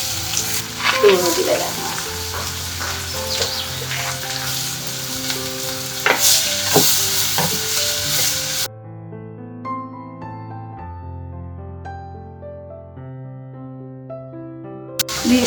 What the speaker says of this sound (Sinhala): කරපොන්ච දැම්ම ටෙම්පරාදු හදා ගන්න.